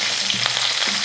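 Shallots, garlic, curry leaves and dried red chillies sauté in hot oil in a pan, giving a steady close sizzle with a couple of soft stirring scrapes, no voices.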